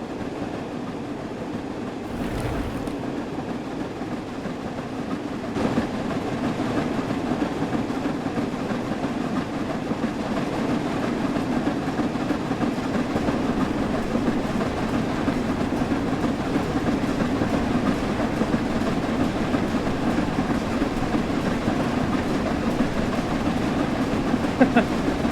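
A locomotive runs alone on rails in Train Sim World 4, heard from the guard seat of a support coach as a steady, loud low rumble with faint rhythmic rail clatter throughout.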